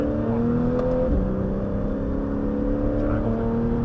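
Porsche 911 accelerating on the Laquais race circuit, heard from inside as a loud sustained engine tone rising smoothly in pitch, with a brief dip near one second, steady and close throughout.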